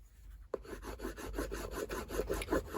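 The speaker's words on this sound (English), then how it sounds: "And if you notice, as I'm burnishing" Double-sided tape is burnished onto a paper album cover with a quick, close, rhythmic rubbing scrape, about ten soft strokes that start after a sharp tap. No one speaks.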